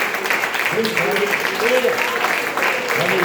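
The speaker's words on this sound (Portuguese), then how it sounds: "Dê uma salva de palmas para o Senhor Jesus." A church congregation claps steadily in a dense, continuous wash of applause while a voice speaks over it, the clapping holding a fairly even loudness throughout.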